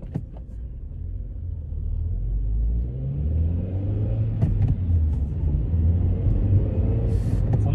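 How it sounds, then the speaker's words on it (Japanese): A Honda Accord Euro R with a 2.0-litre K20 engine and manual transmission revs and accelerates, a deep rumbling growl climbing in pitch, loud and close, with a few clicks along the way. "K20 エンジンはパワフルですね。 力強く加速してくれます。"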